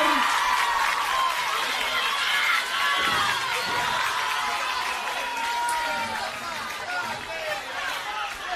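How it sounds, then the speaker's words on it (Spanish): A live crowd at a Buenos Aires tribute concert gives loud, continuous applause and cheering throughout, dense and close, with a babble of voices mixed into the ovation. "Fuertes aplausos para Walter."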